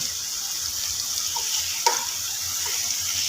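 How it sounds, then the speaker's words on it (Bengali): Chicken cooks with masala in a pan for butter chicken, a steady close sizzle with a single short clink near the middle and no voices. "চিকেনটাকে আমি খুব ভালো করে কষে নেব এই মশলাটার সাথে"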